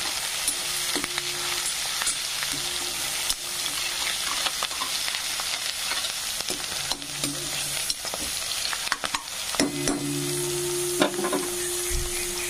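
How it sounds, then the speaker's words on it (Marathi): Cut tomatoes fry in a hot pan with curry leaves, a steady sizzle running throughout while a utensil stirs and scrapes the pan in scattered knocks, close and fairly loud. "टमाटे टाकून घेऊन छान त्याचे असं मस्त फ्राय होऊ द्यायचं"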